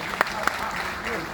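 Audience applause at a Hindi poetry recital for Hindi Diwas: a steady wash of clapping throughout, with a couple of sharper claps standing out early on.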